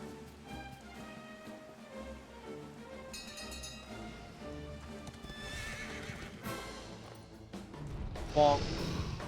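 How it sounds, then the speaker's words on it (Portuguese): A horse in the Dragon Quest XI game trots with rhythmic clip-clop hoofbeats under game music, then gives a sharp, loud whinny near the end. Talk is heard faintly in places. "Cavalinho, cavalinho."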